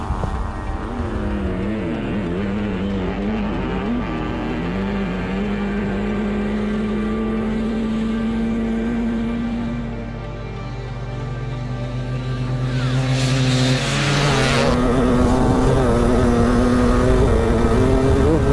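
Racing dirt bikes, including a YZ500 two-stroke, a 700cc two-stroke and a KX450, roaring off a drag start in third gear, loud engines climbing and shifting pitch together over a sustained rumble.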